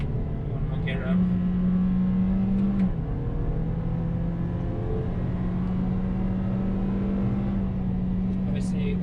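A 2020 Toyota Corolla XR sedan engine pulls steadily after an upshift, a continuous droning hum with rising pitch heard from inside the cabin, road noise underneath and a person talking over it.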